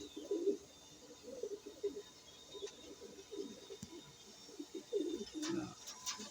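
Soft, repeated cooing of pigeons, several low throaty calls overlapping at a moderate distance against a quiet background.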